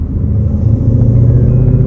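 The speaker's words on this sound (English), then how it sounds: "It takes a lot of the rasp out of this exhaust system from what it was before." Exhaust of a modified car on the road, a loud, deep, steady rumble close up from inside the cabin, unbroken and without talk.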